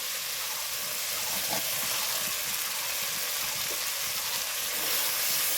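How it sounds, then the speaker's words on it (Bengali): Fried pointed gourd (potol) tipped into hot, oily cooked-down masala, giving a steady, close sizzle and crackle that runs without a break, moderately loud. "এখন আমি এই ভেজে রাখা পটলগুলো দিয়ে দেবো"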